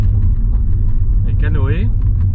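A car interior on the road while towing a trailer loaded with kayaks, with a steady low engine and road rumble throughout and a voice speaking briefly over it.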